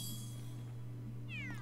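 Short high meow from Cat Luigi in Super Mario 3D World near the end, over a steady low game music drone.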